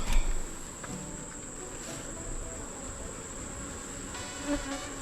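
Honey bees buzz around a beehive in the fourth position of an apiary, a steady, close insect drone with a few louder passes near the microphone, faint throughout.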